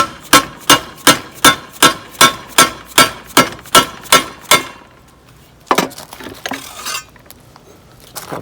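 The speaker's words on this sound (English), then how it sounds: "Just pound it in a little bit." A hammer strikes a metal snow blower control plate about a dozen times in an even, ringing rhythm. A few looser clanks and shuffling follow close by.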